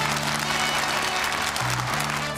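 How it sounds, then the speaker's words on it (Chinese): An audience at a competition event claps in a dense, steady burst of applause lasting a couple of seconds, with a low musical tone beneath. "观众朋友们，给他们最热烈的掌声。"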